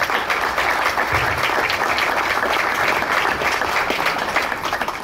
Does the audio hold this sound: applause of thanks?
yes